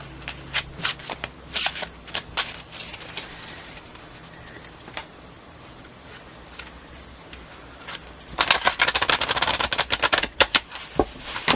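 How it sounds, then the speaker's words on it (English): Tarot cards are shuffled in bursts of crisp riffling and tapping, with quieter handling in the middle and a longer, denser riffle toward the end. "Because of the way I'm shuffling these cards"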